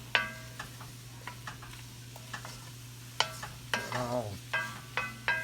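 A spoon scraping and clinking around a pot as flour is stirred into beef for an old-school smothered beef dish, giving soft irregular scrapes and taps over a steady low hum, with one brief spoken exclamation.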